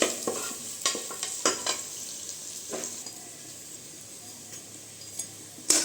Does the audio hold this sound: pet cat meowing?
no